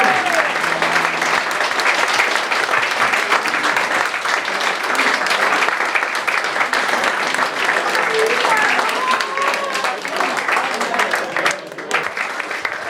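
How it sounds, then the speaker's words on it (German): Sustained applause from an indoor crowd at a Basel Fasnacht Schnitzelbängg evening, dense and steady for over ten seconds, with a voice briefly speaking over it at the start and scattered voices beneath. "aber wir geben Ihnen einen ganz dicken Applaus für den langjährigen Zusammenarbeit."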